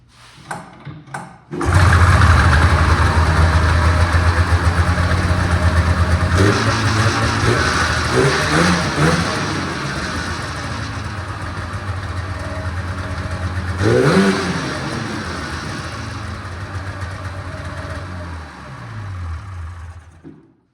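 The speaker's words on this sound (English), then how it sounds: "let's fire this thing up and see what it does" A 1991 Polaris 440 Sport snowmobile engine sputters, then catches and runs with a loud steady drone, revving up in a couple of surges before idling down.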